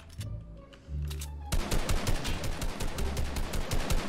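Rapid bursts of automatic gunfire in a build-battle shooter video game, a sparse shot or two at first, then a dense sustained rattle of close, sharp reports.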